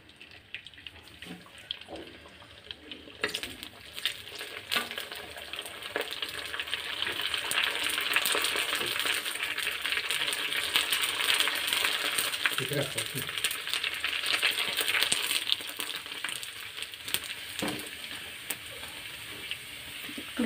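Fuchka puris drop into hot oil and fry, starting with a quiet lead-in, then a dense, bubbling hiss that swells and holds loud for a long stretch before easing slightly, with no talking.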